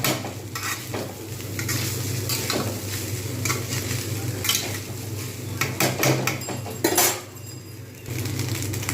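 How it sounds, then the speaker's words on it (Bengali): Vegetables for vegetarian fried rice sizzle steadily in a pan, with a continuous frying hiss broken by repeated scraping and clinking of a spatula against the metal, close and fairly loud, with no voices. "এরকম ভালো করে কিন্তু এটাকে ফ্রাই করে নিতে হবে"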